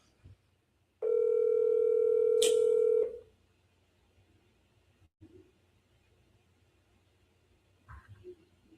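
A steady electronic telephone tone from an outgoing phone call sounds clearly for about two seconds, then cuts off, leaving quiet room noise with a few faint knocks.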